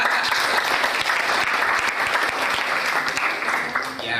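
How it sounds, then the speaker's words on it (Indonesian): An audience at a youth ambassador event in Sidoarjo claps loudly, with dense sustained applause and scattered voices mixed in. "Tepuk tangan dulu."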